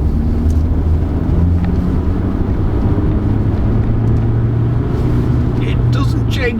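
A 2020 SsangYong Musso Rhino pickup in power mode holds high revs, a loud continuous engine drone and road roar heard from inside the cab, steady throughout.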